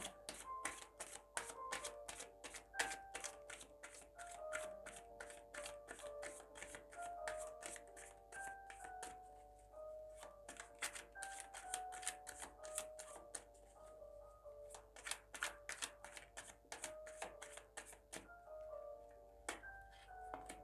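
Tarot cards being shuffled by hand, with a long run of quick crisp riffling flicks and taps in a steady, slightly uneven rhythm, close and fairly quiet with no voice.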